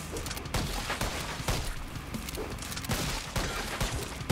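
Rapid bursts of gunfire in a shooting video game, volleys of sharp shots repeating steadily over a dense, loud backdrop of game effects.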